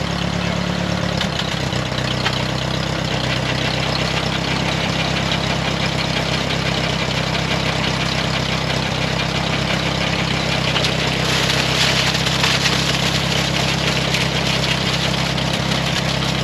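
A Ford 8N tractor engine idles steadily and loudly throughout, a constant low chugging with no pauses, running nearby during work on a concrete pad with a tractor-driven cement mixer.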